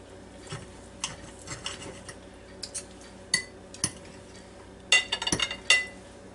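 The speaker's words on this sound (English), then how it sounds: "now let me get me a knife here along with my fork" Steak cooked in a Ninja Foodi being cut with a knife and fork, scattered light clinks and scrapes of metal on a plate, close and intermittent, growing busier toward the end with no speech.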